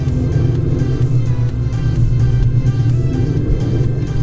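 A 550 HP Ford Mustang GT engine rumbles loudly and steadily up close, a deep throbbing idle with no talk over it.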